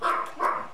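Papillon puppy at a breeder's kennel giving two short, close yapping barks with a brief gap between them.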